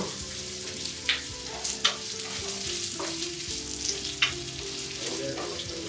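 Curry leaves fry in hot oil for a pineapple gojju, giving a steady, dense sizzle throughout with a few sharper crackles and pops rising above it.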